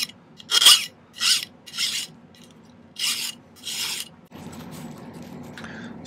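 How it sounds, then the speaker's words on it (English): Metal file rasping a silver earring piece flat at a silversmith's bench, five or six separate gritty strokes close up, followed by a quieter steady rustling. "let me file this down flat on either side"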